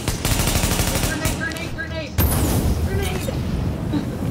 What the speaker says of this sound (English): hit him with a grenade as well